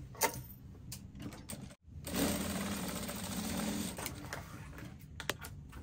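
A sewing machine stitches a cowl neckline facing to a garment body, running in a steady continuous whir for a few seconds after a brief pause, with light clicks around it.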